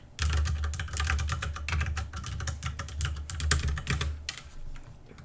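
Steady, close typing on a computer keyboard, with a dense run of quick key clicks and brief pauses, heard alone.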